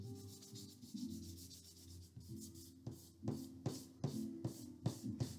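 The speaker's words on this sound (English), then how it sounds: "I'm going to switch to my kneaded eraser." A kneaded eraser rubs across a charcoal drawing of fabric in close, soft scratchy strokes that start slowly and then quicken into a rhythmic back-and-forth scrubbing.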